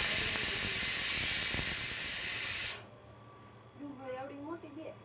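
A pressure cooker whistle blasts steam in a loud, steady hiss for about three seconds, then cuts off abruptly, leaving quiet kitchen background with a voice speaking faintly afterward.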